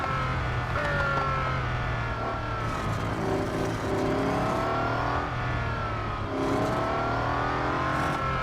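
Game car engine from Real Racing 3 roaring steadily through a late-braking corner, with pitch sweeping down and rising again as it slows and accelerates, loud and continuous with no talk.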